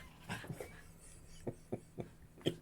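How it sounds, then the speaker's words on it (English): A small dog yips and barks repeatedly at a distance, sharp short bursts spaced unevenly, fairly faint. "Dog's barking there."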